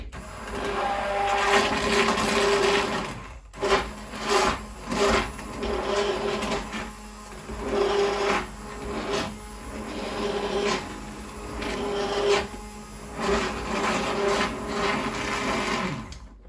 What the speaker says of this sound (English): So it's just one of those immersion blenders that you use for soup.